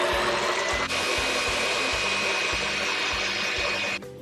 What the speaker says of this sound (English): So first I'm going to beat the egg whites.